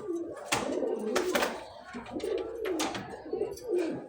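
Domestic pigeons cooing close by, a series of soft throaty calls repeating in an uneven rhythm, with faint background noise and no talk.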